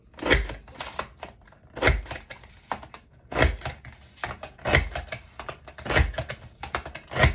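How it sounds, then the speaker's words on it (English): Paper being cut with a Border Maker cutting system for a scrapbook border, a series of sharp close clicks and snaps at irregular intervals, with no talking. "another cut with the Border Maker system, just like I did before."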